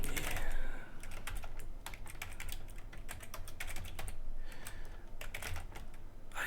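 Computer keyboard typing in quick bursts of close, crisp key clicks with short pauses, over low background hum, during work on a Linux/Mac gPhoto2 tethering script.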